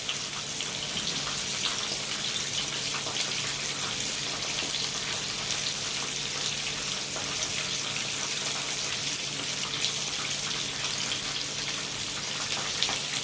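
Liquid seasoning pours steadily during home cooking of barbecue pigtail and chicken, a continuous even hiss and trickle with no talking over it.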